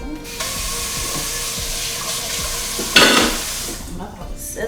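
Shrimp sizzles and crackles steadily in a hot pan, close up, with a louder burst of frying partway through and a few light clinks.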